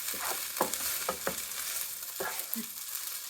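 A spoon stirs fried rice with furikake and seaweed in a pan just taken off the heat, scraping in several close, quick strokes over a soft, lingering sizzle.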